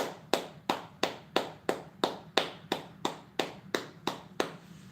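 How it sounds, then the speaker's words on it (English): An audience claps in a steady, slow rhythm, about a dozen evenly spaced sharp claps, fairly quiet and alone with no talking. "Everybody get a hand clap today"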